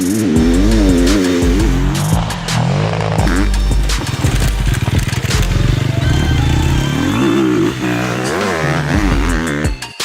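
A loud 250cc four-stroke enduro motorcycle engine, a 2020 model, revs up and down repeatedly, rising and falling in pitch with clattering mechanical noise, close by and continuous.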